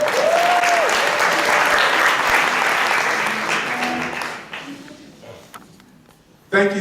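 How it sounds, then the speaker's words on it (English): Loud crowd applause at an open mic poetry show fills the first few seconds, then fades to scattered clapping and dies out. "another round of applause."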